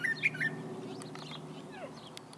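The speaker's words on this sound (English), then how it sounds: "What kind of bird is that?" An outdoor bird gives a weird call: a few faint, high chirps and squeaky notes over a steady low background hum, no talking.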